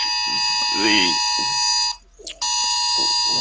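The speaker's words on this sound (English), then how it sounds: "your alarm's going off there." An Amber Alert emergency tone blares from a phone, a loud steady multi-tone buzz that cuts off briefly and then resumes while someone talks over it.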